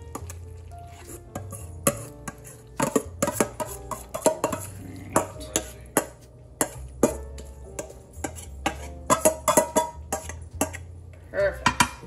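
Spoon scraping and clanking against a greased 9x13 baking pan as food is transferred in, a string of irregular sharp metallic knocks and scrapes with low background hum.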